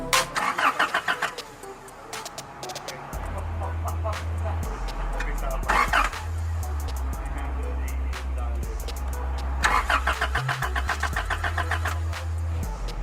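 A Honda car engine cranks repeatedly without starting, the starter whirring in rapid rhythmic bursts separated by pauses, with a low droning hum between attempts, close and loud.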